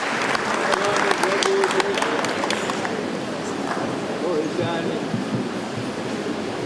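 An audience at a memorial service for a jazz legend applauds the minister, a dense burst of clapping that swells early and then gradually thins out.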